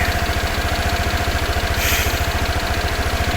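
A motorcycle that has been in several accidents idles close by. Its engine throbs with a fast, even low pulse and a slight rattle, and nothing else is heard.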